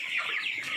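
Broiler chicken clucking in a poultry house, a brief, close, nasal call with a couple of quick rising and falling notes, heard on its own.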